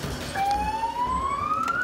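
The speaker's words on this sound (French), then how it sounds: "Allume, tu peux mettre la sirène." A police siren winds up in a rising wail, starting a moment in and climbing steadily in pitch over a rumbling street and engine background in a Rio favela at night, with no talk.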